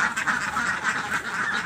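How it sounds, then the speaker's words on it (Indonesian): A flock of egg-laying ducks on a duck farm quacks steadily, a dense rhythmic chorus of many birds close by with no talking. "ini peternak bebek jenis petelur"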